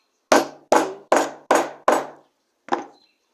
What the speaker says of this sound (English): so you can use your hammer to press it